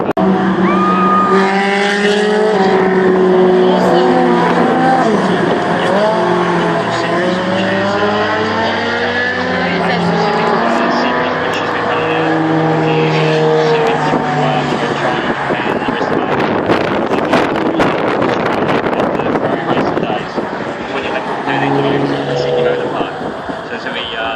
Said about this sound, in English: Which is a flat 12-cylinder engine, which was what was used in the Formula 1 cars back in that era.